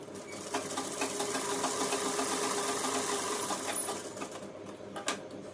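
A sewing machine runs steadily, stitching a double seam along a salwar belt, its fast rhythmic clatter continuous and close, then slowing and stopping near the end with a few brief knocks.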